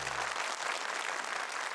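An audience at a Quran recitation competition bursts into dense, steady applause, close and loud throughout the brief moment, with no voices over it.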